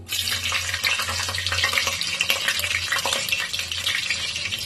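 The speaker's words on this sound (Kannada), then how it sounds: "ಈಗ ನಾನು ಒಂದು 4 ಹಸಿಮೆಣಸಿನ್ಕಾಯಿನ ಹಾಕ್ಕೊತಾ ಇದ್ದೀನಿ." Four green chillies hit hot oil in a pan for a village-style chicken biryani, crackling in a dense, bright sizzle, with busy stirring scrapes throughout.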